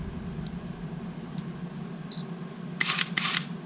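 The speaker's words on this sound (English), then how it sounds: "hey, listen to that shutter." A Sony A7 mirrorless camera fires its shutter twice near the end, two quick close clicks with a slightly grinding edge over a quiet room hum, after a few faint ticks and a short beep.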